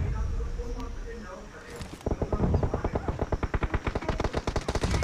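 Rapid machine gun fire in a shooting video game, a loud close burst of evenly spaced shots that starts abruptly and keeps hammering steadily to the end, with quieter game sounds before it.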